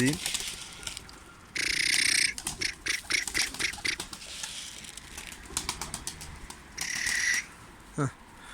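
Pigeons flap their wings in loud bursts, mixed with coos and squawks, close by, while a person talks now and then.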